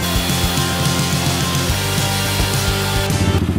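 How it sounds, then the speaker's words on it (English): A drill pre-drills a hole for a van switch panel during a Sprinter conversion, a loud steady motor whine that changes pitch partway through and ends in a quick pulsing burst, close up. "Now I'm just going to pre-drill the hole."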